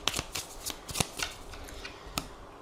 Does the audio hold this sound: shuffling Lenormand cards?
yes